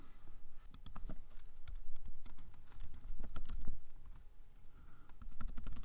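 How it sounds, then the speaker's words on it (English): Fast typing on a computer keyboard, a close, irregular patter of key clicks in short bursts with brief pauses between them and no talk over it. "I am doing a lot of typing, aren't I?"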